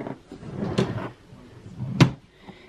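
A home office drawer holding gift bags slides open and shut, with two sharp wooden knocks and a soft rumbling slide between them, close and fairly loud.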